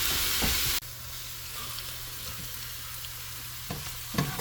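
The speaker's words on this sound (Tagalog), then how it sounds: "So ayan po at naihulog na niya yung bawang" Garlic drops into hot oil in a pan and sizzles steadily, a close, continuous frying hiss after a sudden start, with a few faint clicks and stirring noises.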